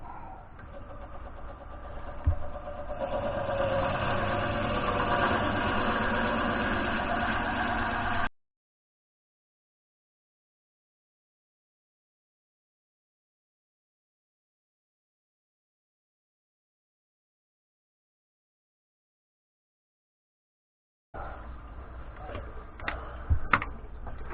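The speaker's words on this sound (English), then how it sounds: "I think that's the slowest I've ever drilled a pen blank in my life" A dovetailed segmented Paduk and maple pen blank being drilled very slowly, with a steady mechanical whirr for several seconds, then a long silent gap before the motor hum returns near the end.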